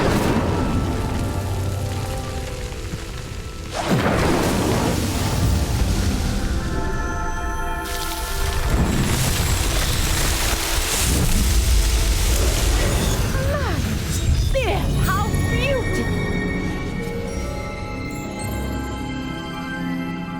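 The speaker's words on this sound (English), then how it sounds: "The flames make the pyre sink." Roaring burst of fire from an Incendio spell in Hogwarts Legacy, flames whooshing and booming in loud waves as a pyre sinks, dense and continuous throughout.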